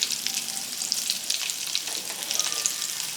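Crushed garlic cloves sizzle in hot tempering oil with turmeric for a tomato coriander chutney, a steady close crackle with scattered pops and no talk.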